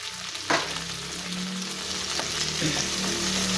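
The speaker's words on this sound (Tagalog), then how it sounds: "Haluin lang natin ang haluin hanggang sa lumambot ang kamatis." Tomatoes fry with bottle gourd in a hot pan, a continuous close sizzle broken by a few scraping stirs of a spatula.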